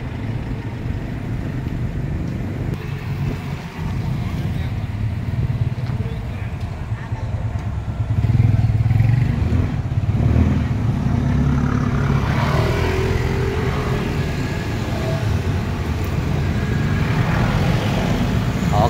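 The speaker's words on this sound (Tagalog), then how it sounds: "Matraffic din kasi ito guys itong street na to." Street traffic on Avenida Rizal, a busy road, forms a continuous loud rumble of passing cars and trucks, with engines swelling as vehicles go by.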